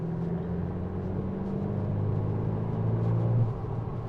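A Volkswagen T-Roc R performance SUV with a different exhaust drives along, its engine and exhaust making a steady, close, low droning rumble that swells slightly toward the end.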